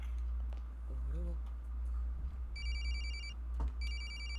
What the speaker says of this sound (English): Creepy cell phone.